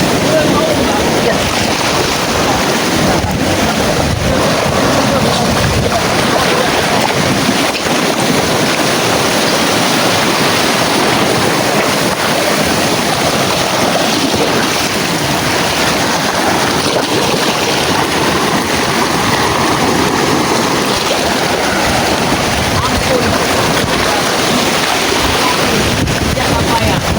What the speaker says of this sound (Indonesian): ombakmu sangat kencang sekali